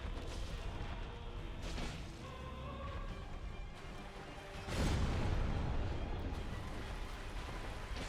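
A boss's explosion attack in Dark Souls Remastered: under a murky low rumble of combat sounds, a sharp crash erupts just before the five-second mark and swells into a broad, booming blast that rolls on, then settles back to ambient noise.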